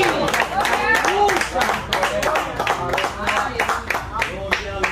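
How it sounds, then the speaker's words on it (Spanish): A church congregation claps during a sermon, with steady bursts of applause running beneath a loud preacher's voice that dominates the clip throughout. "Te doy un fuerte aplauso a Cristo"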